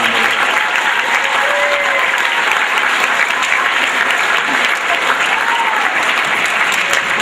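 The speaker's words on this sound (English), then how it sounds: "So a great round of applause for Karen." Audience applause at a school honoring state champion soccer players, dense loud clapping filling the room steadily from start to finish, with a few faint voices mixed in.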